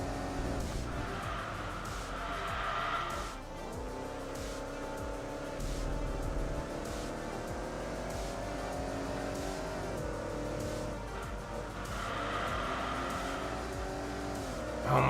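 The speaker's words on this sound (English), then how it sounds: "The rumbly V8s. I love the sound of V8s." Rumbly V8 race car engines roar in Enthusia Professional Racing, revving and changing pitch through shifts, with tire squeal and skidding, loud and continuous throughout.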